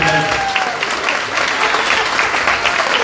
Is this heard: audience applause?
yes